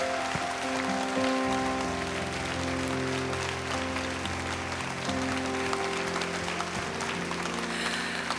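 At a Korean church gospel concert, an audience breaks into loud, sustained applause that fills the space, with a faint tonal backing underneath and no speech.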